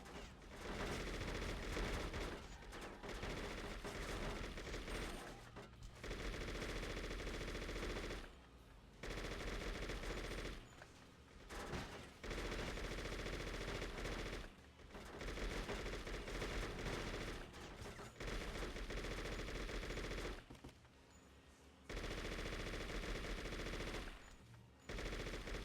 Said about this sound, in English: you shoot so many bullets quickly.